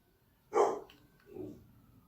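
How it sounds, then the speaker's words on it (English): Dog barking indoors, two short barks about a second apart, the first sharper and louder, the second softer, heard alone. "my dog"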